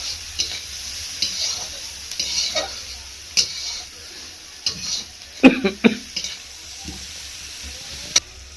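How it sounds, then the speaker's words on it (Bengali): Flattened rice being tossed and stirred in a hot pan, with scattered scraping, clinking and light sizzling bursts in an uneven rhythm, close by. "চিড়া ভাজাগুলো ওই যে খলায় ভেজে নিলাম, আর এখন লঙ্কা আর পেঁয়াজ দিয়ে হুড়ুম ভাজা করবো"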